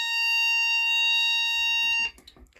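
Inside a shed, a fire alarm system sounds a loud, steady electronic tone for about two seconds, then cuts off, leaving faint clicks and handling noises.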